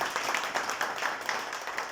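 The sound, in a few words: audience applause for guests at Holi gathering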